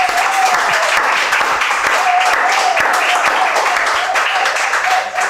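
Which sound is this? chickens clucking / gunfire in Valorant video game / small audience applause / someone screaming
small audience applause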